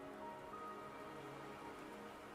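Steady rain falls in the video game Wuthering Waves, a soft, even hiss of drops on surfaces with no voices, quiet and unbroken throughout.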